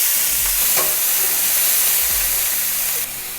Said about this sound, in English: When the cumin seeds turn dark brown in color, add 1 cup chopped onion.